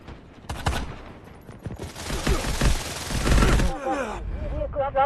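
Artillery barrage and heavy gunfire in a military video game, a dense run of booming shots and crackling bursts building to a loud sustained volley, then fading as a voice speaks near the end.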